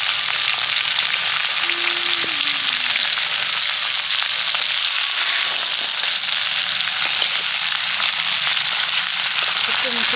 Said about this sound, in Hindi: आलू के डाल के चला देते हैं